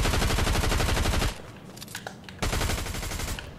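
SMG gunfire in Fortnite: a rapid, loud burst of automatic shots, a brief lull with scattered distant pops, then another sustained burst.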